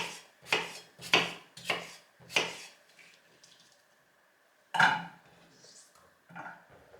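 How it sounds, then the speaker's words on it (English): A knife chops vegetables on a cutting board in a quick series of five crisp chops, then pauses before a few more scattered cuts, close and fairly loud. "So let's just cut them into small pieces."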